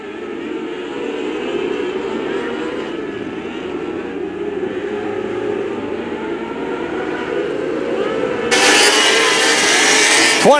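Non-wing micro sprint race cars at Macon Speedway, engines droning at a distance around the track, a steady whine that swells louder near the end as the cars pass closer.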